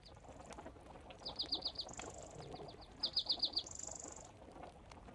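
Songbirds chirp in the woods of the DayZ video game, two quick descending trills of rapid notes over a soft steady ambient hiss, fairly faint and with no voices.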